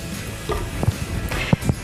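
Carrot tipped into a pan of stewed onion, a steady close sizzle of frying vegetables with a few soft scraping stirs and small knocks, no voices.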